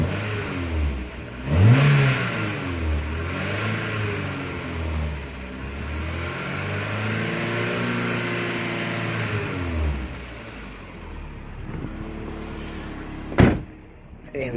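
A Roewe 400 car engine catches after a jump start, then revs up and down in several long sweeping swells before settling toward idle, close and loud, with a sharp door-like thud near the end.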